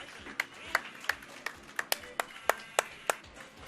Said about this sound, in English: The crowd is going wild with a good applause there